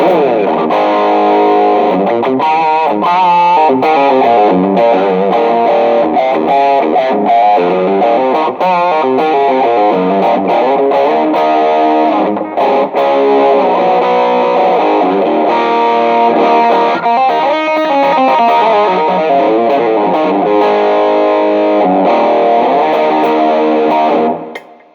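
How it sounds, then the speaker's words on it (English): A heavily distorted Toastar TJM-160-SBK electric guitar on the bridge pickup plays continuous riffs and chords with a bright, biting high-gain tone, loud and sustained throughout. "Higher gain drive in the bridge position sounds like this."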